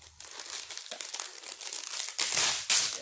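Peel-off face mask being pulled away from skin, a close crinkling, tearing rustle that comes in uneven bursts, growing louder toward the end.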